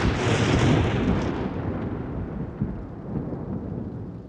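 A loud crack of thunder opens into a long rolling rumble that slowly dies away, used as a game-show sound effect, with no voices over it.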